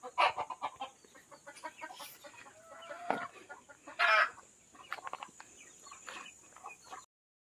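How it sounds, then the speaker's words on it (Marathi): Chickens and roosters in a rural village yard clucking in scattered, uneven bursts, with a few louder squawks and calls, fairly close and without talking. "बरेच कोंबडे आहेत ना"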